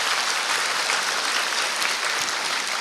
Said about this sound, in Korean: 정말 우리 찬양단을 위해서 다시 한번 박수 쳐주시기 바랍니다.